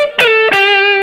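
An electric guitar played through a distortion boost pedal: two sharply picked notes ring out one after another, each sustaining into a thick, buzzy, overdriven tone, loud and close.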